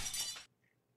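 A glass bottle shatters in the game Happy Wheels, one sharp bright crash lasting under half a second, followed by near silence and a faint tinkle.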